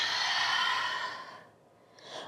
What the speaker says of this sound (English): Exhale, fold.